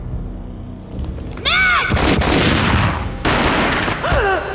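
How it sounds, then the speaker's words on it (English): Loud, dense volleys of gunfire in the game Max Payne crackle close by in two long bursts, with high whooshing, whistling effects sweeping through. "A gunshot boomed and she fell down in slow motion."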